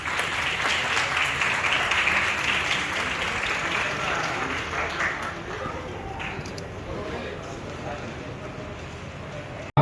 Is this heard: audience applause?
yes